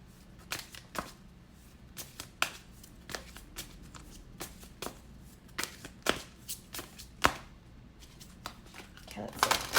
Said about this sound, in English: I just feel like this shuffle needs to happen a bit more.